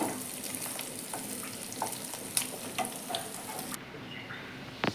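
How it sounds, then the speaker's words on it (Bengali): Egg fritters fry in hot oil, a constant close sizzle with sharp crackles and pops scattered throughout, the frying dropping slightly quieter near the end. "আমার ডিমের বড়ার এক পিঠ সুন্দর করে ভাজা হয়ে গেছে।"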